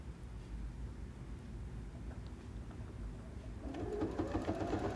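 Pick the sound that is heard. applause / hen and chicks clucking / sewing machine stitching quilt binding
sewing machine stitching quilt binding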